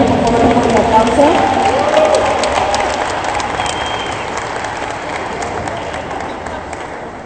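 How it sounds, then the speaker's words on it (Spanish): Sustained applause from an audience at a university student panel on education, a loud, dense crowd of clapping that carries steadily and slowly tapers over seven seconds, with faint voices mixed in. "Por favor, un fuerte aplauso."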